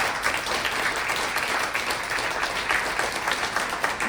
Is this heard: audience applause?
yes